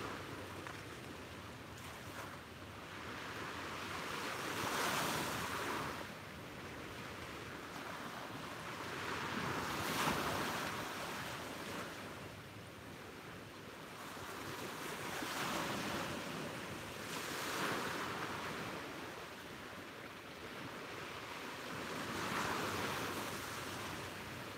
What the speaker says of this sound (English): listen to a few more waves crashing the shore